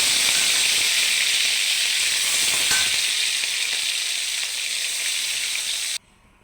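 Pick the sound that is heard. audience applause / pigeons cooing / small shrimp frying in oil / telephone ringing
small shrimp frying in oil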